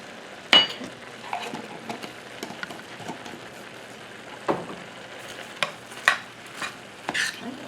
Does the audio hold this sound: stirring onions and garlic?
yes